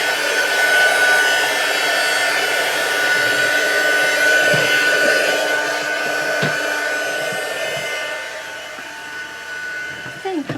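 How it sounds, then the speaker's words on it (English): Heat gun blowing to dry coffee-stained fabric, a loud steady roaring whoosh with a faint high whine that runs almost continuously and eases slightly toward the end, with small handling knocks underneath. "I'm just going to turn on my heat gun and try and dry off this fabric"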